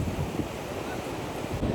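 Sea waves break continuously on the beach at Suryalanka, a steady broadband wash mixed with gusty wind rumble against the microphone and no talk.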